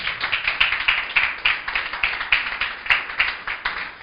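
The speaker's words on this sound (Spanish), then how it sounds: "Aplauda al Señor, hermanos." A church congregation clapping in a steady, fairly quick rhythm, close and lively, like rhythmic applause during a sermon.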